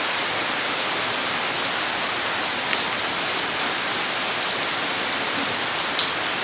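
Heavy rain falls hard and steadily in a dense, loud hiss, with occasional sharper drops striking nearby surfaces.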